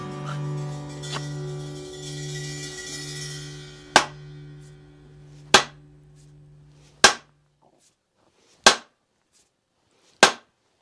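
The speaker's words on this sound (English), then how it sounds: "we'll begin with some gentle taps on the wedge to get it seated" A hammer strikes a wedge into the handle of an axe head five times with sharp, loud, evenly spaced taps after a few seconds of low hum, each hit ringing briefly before near silence.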